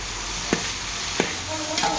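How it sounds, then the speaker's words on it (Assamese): Shrimp frying in a pan and being stirred, during a traditional Assamese recipe; a steady sizzle runs throughout, with two sharp scraping stirs and a third softer one, close by and with no talk. "চিংৰা ভাজি"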